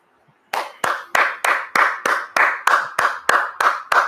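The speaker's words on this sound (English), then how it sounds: "gotta clap it up." Hands clapping in a steady, even rhythm, about a dozen sharp, loud claps spaced roughly a third of a second apart, close to the microphone and without any talk.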